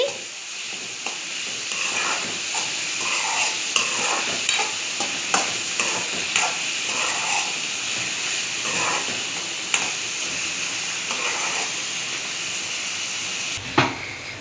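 Chicken fry with turmeric being stirred in a hot pan: a steady sizzling hiss with irregular scraping knocks of a spoon against the pan, close and continuous, with no talking.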